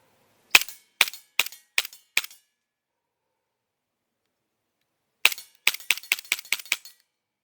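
A Cybergun VFC FN FNX .45 Tactical airsoft pistol fires five sharp, evenly spaced shots up close, then after a silent pause it fires a quicker string of about nine more cracks. No voices are heard.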